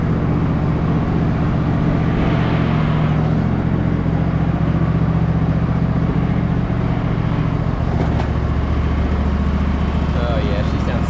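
A repaired Husqvarna riding mower engine idles smoothly and steadily up close, a loud continuous drone with no knocking, while someone speaks over it.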